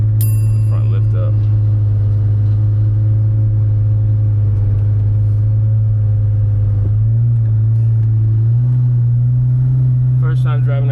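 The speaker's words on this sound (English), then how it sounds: "First time driving a Gallardo, and it's E-gear." Engine of a 2007 Lamborghini Gallardo with E-gear transmission while driving, a loud, steady low rumble close by with pitch stepping up near the end, and a voice talking briefly at the start and end.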